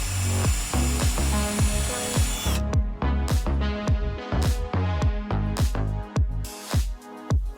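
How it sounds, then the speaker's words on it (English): Small holes drilled for machine screws while fixing an Old Town Autopilot motor plug, a power drill whirring in short repeated bursts that rise and fall in pitch, close and fairly loud, no talking. "Now we just got to drill the little holes"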